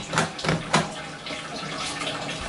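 A broken toilet flush at midnight, with water running and splashing, a few sharp bursts early on and then a steady continuous trickle.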